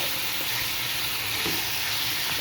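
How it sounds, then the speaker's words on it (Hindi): Boneless chicken pieces sizzle and fry steadily in a pan, a dense continuous hiss with faint stirring clinks, close and fairly loud with no talking. "चिकन को ना हमने अच्छे से फ्राई कर लेना है"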